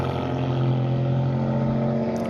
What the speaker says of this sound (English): there's a car passing by